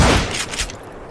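A loud gunshot from the video game Call of Juarez: Gunslinger cracks sharply and then fades into a brief rumbling echo, heard up close with no speech.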